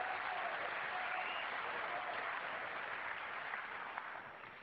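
A large snooker arena crowd at the Masters reacts with a sustained wash of applause and murmur, fairly distant and even, easing off toward the end.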